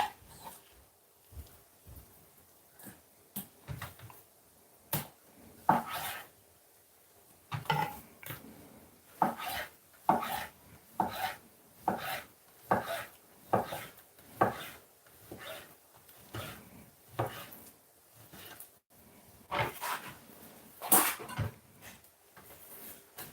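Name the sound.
knife cutting chicken into strips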